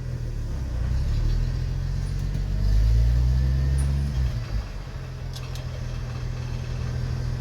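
1974 Ford F-250 Ranger SuperCab driving with a suspected driveline clunk: a steady low rumbling drone from inside the moving truck, swelling briefly in the middle, with faint clicks above it.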